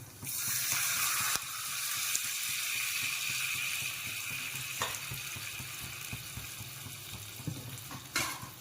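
Water poured into a hot curry-leaf and asafoetida tempering for dhokla, giving a loud, steady sizzle and hiss that slowly fades, with a couple of sharp clinks from the pan.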